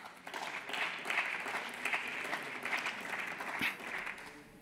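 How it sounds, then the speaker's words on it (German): Members of parliament applaud during a short debate in the chamber, a sustained patter of many hands clapping with rhythmic swells, moderately distant and without speech over it. "Applaus"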